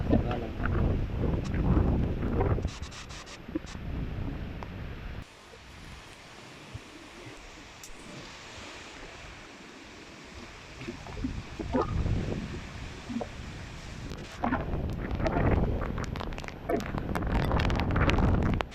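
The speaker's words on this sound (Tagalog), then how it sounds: "Medyo lumalakas na po talaga ang hangin." Strong typhoon wind buffets and roars across the microphone in gusts, loudest at the start and end, with a calmer rustling stretch in between, at Makiling Hills Subdivision during Typhoon Rolly.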